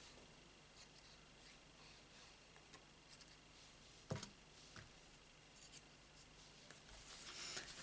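Scissors snip through card in quiet, irregular cuts, faint and close, with one sharper snip midway and soft handling rustle.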